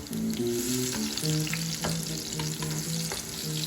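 Slices of pumpkin fry in oil in a pan, giving a loud, steady close-up sizzle and crackle with light stirring, accompanied by background music.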